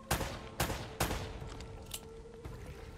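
Gunfire in the action game Uncharted: Drake's Fortune, three sharp loud shots in quick succession followed by fainter scattered pops and echoing reports.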